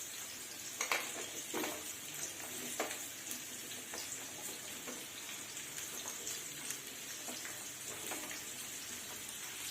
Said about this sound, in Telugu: ఇప్పుడు ఇంకొంచెం ఆయిల్ వేసుకొని ఆనియన్స్ని ఫ్రై చేద్దాం